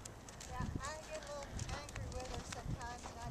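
A training-level horse walking in an arena, its hooves giving soft, regular footfalls up close while a person talks over them.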